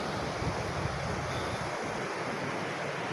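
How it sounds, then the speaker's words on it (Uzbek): A mountain river rushes along in a steady, loud, close roar of flowing water, mixed with gusts of wind noise on the microphone. "Mana daryo."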